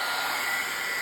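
A heat tool blows hot air to dry paint, giving a continuous, steady airy whir close by with no speech.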